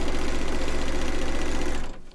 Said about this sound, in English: So then we're going to stitch it.